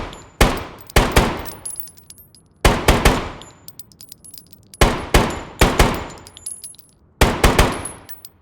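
Single-fire shots from a rifle in Road to Vostok, loud sharp cracks with metallic ringing tails, fired in spaced pairs and singles with quiet gaps between.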